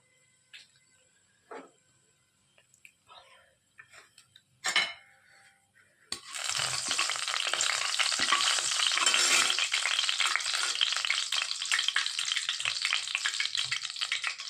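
A few light clinks of a spoon and pan come first, then mustard seeds, urad dal and fennel hit hot oil with a sudden loud, crackling sizzle that continues steadily.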